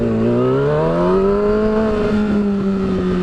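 An engine fitted with an Olson Performance Shorty slip-on exhaust revs up and eases off, a loud, close, steady rasp across a few seconds with no talk.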